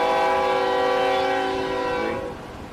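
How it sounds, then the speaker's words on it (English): A train passes close by sounding its horn, a loud, sustained multi-tone blast that holds for about two seconds and then fades away as the train moves on. "Train's coming in, everybody, so sorry about that."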